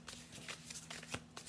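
A deck of tarot cards being shuffled by hand, a soft close riffling with several quick flicks and slaps, quiet over a faint low hum.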